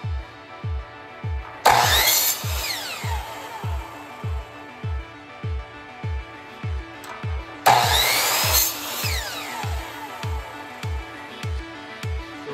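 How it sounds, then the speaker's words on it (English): Wood being sawn for a guitar hanger, a rhythmic back-and-forth rasp of steady strokes, close and clear, with a couple of louder scraping bursts. "I've returned from using the saw"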